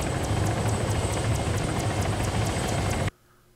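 Loud helicopter in the military shooter ARMA 3, a steady rotor drone with rapid regular blade chop and a low engine hum, filling the scene close up before cutting off abruptly near the end.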